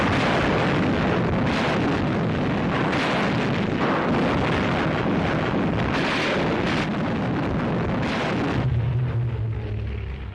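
Artillery fire and explosions from WWII-era fighting between a modern army with artillery and tanks and Abyssinian forces, a dense continuous roar of blasts and rumbling bursts, loud throughout and ending in a lower rumble.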